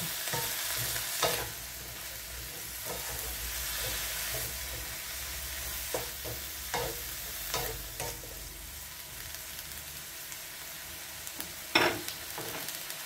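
Ingredients sautéing in a pan for ginataan with jackfruit, a low steady sizzle with scattered soft stirring scrapes and a sharper clink near the end.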